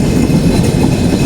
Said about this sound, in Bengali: আমাদের ট্রেন এই মুহূর্তে পার করছে খুলনার ফুলতলা স্টেশন।